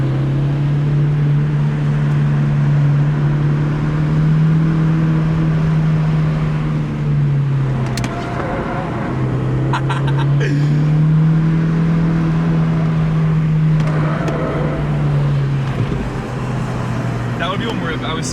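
A Honda CR-Z drives a winding mountain road, its engine droning steadily from inside the cabin and rising and falling with each shift, while people talk over it.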